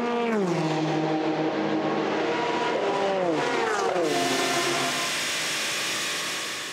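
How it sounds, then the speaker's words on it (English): A Dempsey Proton Racing Porsche race car, number 77, howls past with a rising then falling engine pitch as it goes by, loud and near, trailing off into a steady roar. "There is the number 77 Dempsey Proton Racing Porsche, and it is Christian Ried who is behind the wheel at the moment."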